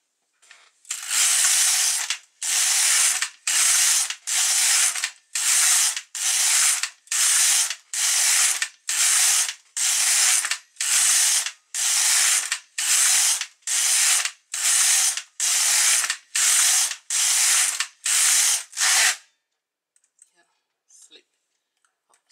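Carriage of a domestic knitting machine swept back and forth across the needle bed, stitch dial set to 3, knitting rows of yarn for a tension swatch: about eighteen loud, evenly spaced whirring-clicking passes, then near silence.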